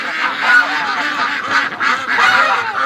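A crowd of ducks honks and quacks loudly and continuously close by, eager to be let out of their pen.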